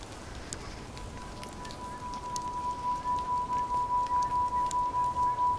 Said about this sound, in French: C'est la belle pluie.